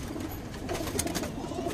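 A small female pigeon, a Patiala breed from Baghpat, coos softly in a low, throaty burble, faint and close, under light background noise.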